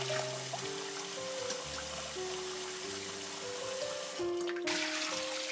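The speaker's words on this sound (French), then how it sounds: "Je les rince à l'eau froide." Cold tap water runs steadily over rice noodles being rinsed for a Cambodian stir-fry, a soft continuous trickle and splash close by, with a louder rush toward the end.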